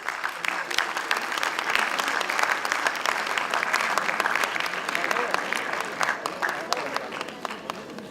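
A conference audience breaks into sustained applause, many hands clapping steadily for several seconds before tapering slightly, with some voices faintly beneath.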